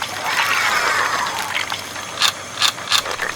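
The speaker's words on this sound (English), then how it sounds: "All right, into the grinder it goes." A LEGO sausage machine grinder turns with a whirring mechanical hiss, followed by several sharp plastic ratcheting clicks near the end, close and fairly loud.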